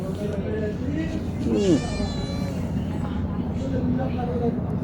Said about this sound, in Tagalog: Yung pusa rito eh, oh.